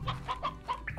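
Chickens in the video game Slime Rancher, clucking in a quick series of short, close, clear clucks ending in a squawk.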